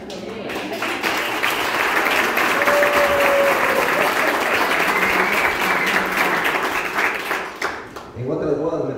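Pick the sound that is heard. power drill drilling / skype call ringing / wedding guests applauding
wedding guests applauding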